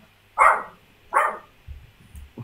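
A dog gives two loud, close barks about a second apart, with quieter low thumps and shuffling after them.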